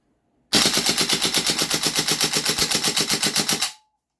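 GHK AK-105 airsoft rifle firing full auto in one continuous, loud, close burst of rapid, evenly spaced shots lasting about three seconds, then stopping abruptly.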